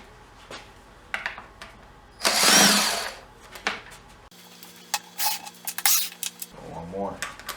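Valve cover bolts are removed from a Nissan VK45DE 4.5-litre V8. A close burst of power-tool whirring is followed by scattered metallic clicks and clinks of tools and bolts, with a voice talking at the end.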